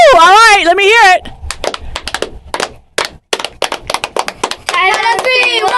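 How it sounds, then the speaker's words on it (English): A youth sports team shouts a group cheer, with sharp rhythmic claps and short chanted bursts between excited high voices at close range. "We're gonna do a cheer."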